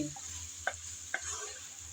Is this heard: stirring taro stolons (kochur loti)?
yes